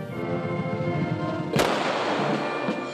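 A military gun salute at a soldier's funeral in Lviv fires one sharp, loud volley partway through, over a sustained brass tone from a military band, with a lingering rumble afterward.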